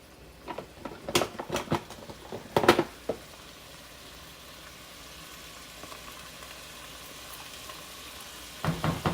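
Tomato paste stirred into drained cooked ground meat for shepherd's pie, a quick run of scraping and clattering against the pan, then a quiet low sizzle, with more scraping near the end.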